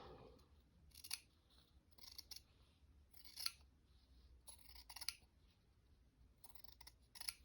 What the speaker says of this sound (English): I've got the good scissors out